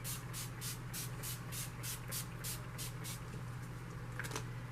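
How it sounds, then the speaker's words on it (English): About a dozen short, evenly spaced hissing spritzes of Urban Decay All Nighter setting spray from a spray bottle over a low steady hum, fairly faint. "I am just going to be using some of my Urban Decay All Nighter Setting Spray"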